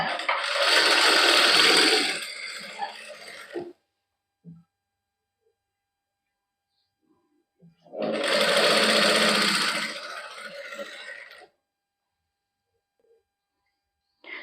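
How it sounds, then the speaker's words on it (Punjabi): A sewing machine running fine, narrow stitching along the hem of a dupatta. Two loud, close bursts of rapid stitching, each about three seconds, are separated by near silence and a few faint handling clicks. "ਬਰੀਕ ਬਰੀਕ ਸਲਾਈ ਲਾ ਲਾਂਗੇ ਚੁੰਨੀ ਦੇ ਪੱਲਿਆਂ ਤੇ"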